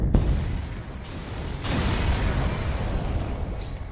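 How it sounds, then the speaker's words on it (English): Ship weapons fire on an enemy vessel in FTL: Faster Than Light. A sharp blast opens, another hit follows, and a louder, sustained explosive rumble then carries on to the end with no voices. "So let's shoot that down."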